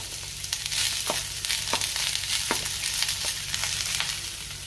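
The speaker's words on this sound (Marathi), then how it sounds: "त्याच तव्यावर आता आपण कांदा भाजून घेऊया।" Steady sizzle of onion roasting on a hot griddle, with a low hum underneath and a few soft clicks of stirring, no voices.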